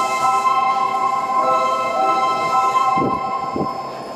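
A Kobe subway train on the Seishin-Yamate Line, bound for Tanigami, pulls into Itayado station. A steady, close rumble with a sustained tonal hum runs throughout, and two short louder surges come near the end.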